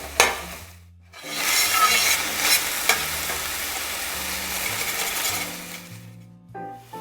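Ground sausage meat sizzles and crackles in a pan as it is broken up and stirred, with scraping and clicks. A brief near-silent gap comes early, then a loud, steady frying hiss returns.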